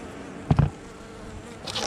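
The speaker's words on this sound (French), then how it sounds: "Alors t'as quelques abeilles devant encore, hein." Bees buzz around the front of a beehive outdoors, a soft steady hum with a couple of louder passes close by and another insect drone swelling near the end.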